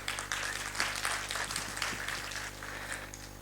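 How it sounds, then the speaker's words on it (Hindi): An audience at a religious gathering with a revered saint claps together, a fairly faint, sustained wash of applause heard from a distance over a low steady hum. "जिन्होंने ताली बजाई है"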